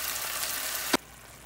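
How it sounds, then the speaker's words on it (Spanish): Onion cooking in a pan as chicken broth is poured in, a steady bright sizzle that is cut off by a short thump, then near silence. "aquí tengo yo un poquito de caldo de pollo, le voy a agregar para que termine de cocinar la cebolla"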